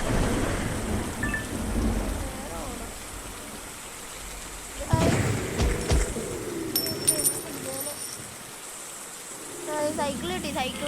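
Rain and rolling thunder from a video game storm, a steady wash of rainfall with a few louder thunder bursts midway and toward the end, and a voice speaking briefly near the end.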